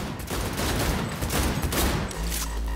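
Rapid gunfire rattles loudly and continuously in the video game Cyberpunk 2077, a dense volley of shots lasting a few seconds with no voices.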